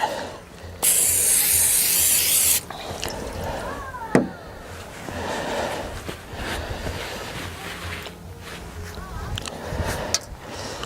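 An aerosol can sprays another coat onto a car's plastic headlight lens in a loud, close hiss lasting about two seconds, followed by quieter handling noises and faint knocks.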